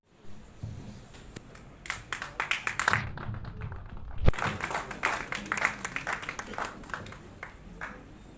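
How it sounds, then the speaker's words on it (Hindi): Scattered clapping from an audience at a Delhi awards ceremony, individual claps standing out and thickening into a fuller round, moderately loud and fairly close. "जोरदार तालियां।"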